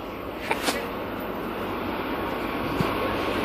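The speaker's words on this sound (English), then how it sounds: "It's gonna be a triple train meet." Train rumbles past at Danforth with a steady broadband roar from rolling stock, a few sharp clanks and squeals punctuating it, fairly close and continuous.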